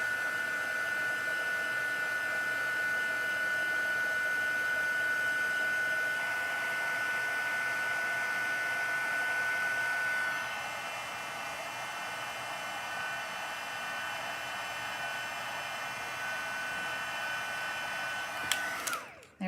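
A heat tool set low blows a steady, loud hot-air hiss across embossing powder on a handmade card, holding level for about twenty seconds, then dropping slightly, with a brief click near the end.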